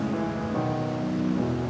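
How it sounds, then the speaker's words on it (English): Ocean waves roll and crash on the shore as a steady, broad wash of surf, fairly soft and continuous with no break and no talking. "with the waves coming crashing in around her"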